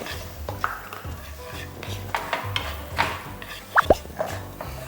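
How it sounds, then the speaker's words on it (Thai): Garlic stir-fried in a pan over low heat, with scattered clinks and scrapes of a utensil against the pan and a couple of sharper metallic taps near the end, over a quiet kitchen background. "เราก็จะผัดกระเทียมไฟเบานะครับ เพราะเราไม่อยากให้เขาไหม้"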